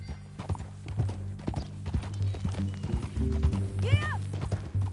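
Horse hooves clip-clopping in Red Dead Redemption 2, a steady run of close, sharp hoofbeats over a low game background, with a brief neigh near the end and a little talk.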